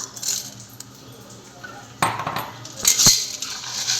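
A spoon stirring boiled pasta inside a pressure cooker, giving a few light metallic clinks and scrapes against the pot, intermittent and fairly close, with quiet background sound between them.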